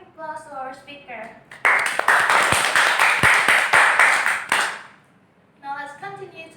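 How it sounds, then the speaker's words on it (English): An audience breaks into applause for a speaker at a World Speech Day event in Bangka, a dense burst of clapping lasting about three seconds, with talk heard before and after it. "Now give applause to our speaker."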